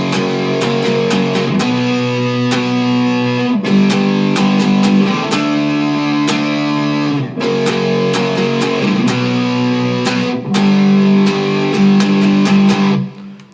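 Loud distorted electric guitar playing sustained power chords that change every couple of seconds, with sharp strummed attacks, alone with no voices, from the chorus of a rock song.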